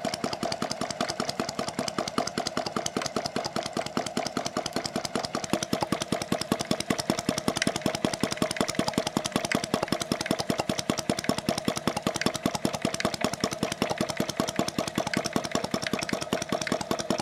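A self-built model hot-air engine runs steadily, a rapid, even chugging beat with a constant mechanical hum underneath. It is close and continuous, with no voices.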